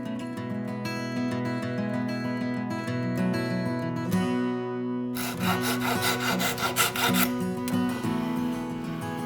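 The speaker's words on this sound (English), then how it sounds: "smooth the stripe down level with the rest of the cutting board" Hand-rubbing or rasping a wooden inlay stripe level with a cutting board makes steady, close scraping strokes over a droning hum, and the strokes become denser and more rhythmic after a brief pause.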